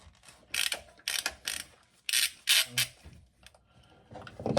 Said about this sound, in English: Then I take my 19mm socket and I start removing the sensor.